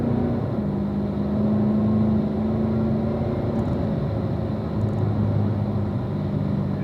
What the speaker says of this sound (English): Accelerate out. Hit 4th gear right about now.